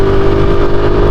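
A Pop 110 motorcycle engine running with strange, annoying noises, a loud, steady close-up mechanical hum with a constant pitched whine throughout.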